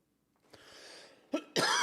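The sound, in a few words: coughing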